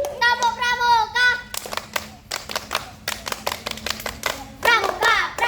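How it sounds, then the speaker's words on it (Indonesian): Children at a one-day scout camp perform the Pramuka rhythmic clap, sharp bursts of unison hand claps in patterned groups, with the children chanting and singing before and after the claps. "Tepuk pramuka."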